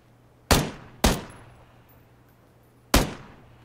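An M416 rifle in Battlegrounds fires three separate sharp shots. Two come close together and a third follows after a pause, each with a long, echoing tail fading into quiet.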